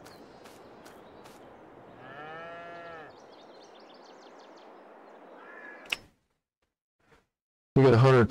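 Cattle moo in a farming video game, with one clear drawn-out low moo in the middle and a few shorter calls. A loud burst sounds near the end.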